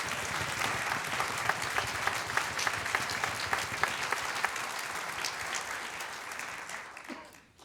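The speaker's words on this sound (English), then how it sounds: "we should offer some extra applause for Bill Chouinard." Audience at a holiday brass and organ concert giving a sustained round of dense clapping that fades out toward the end, with a few sharper claps standing out above the crowd.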